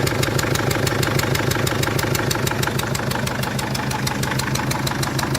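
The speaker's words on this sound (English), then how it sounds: "you can hear those injectors and chuffing apart" A Mercedes Sprinter W903 diesel engine idles with worn injectors, giving a steady, loud rapid chuffing knock that repeats evenly throughout at close range.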